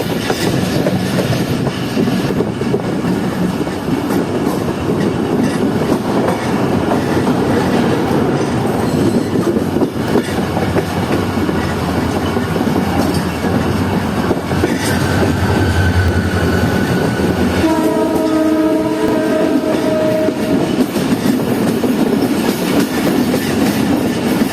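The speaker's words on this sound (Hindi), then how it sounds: "और मुसाफिर यहाँ पर इंतज़ार कर रहे हैं KCR का, KCR 2 डाउन, जो सुबह में चलती है ढाबेजी से लेकर औरंगी रेलवे स्टेशन तक" A Karachi Circular Railway commuter train rumbles past close by and runs loud and steady throughout, with rattling wagons and a pitched squeal of wheels or brakes near the end, and no voices.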